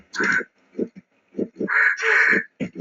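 Crows cawing in the Tomb Raider 2 video game, a series of harsh, loud calls in short bursts with brief gaps, some overlapping into longer squawks, close and clear with no talk over them.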